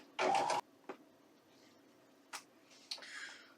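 A sewing machine stitches quilt block seams in a quiet room. It makes one short whirring run of stitches, followed by isolated clicks and brief mechanical bursts with pauses between them.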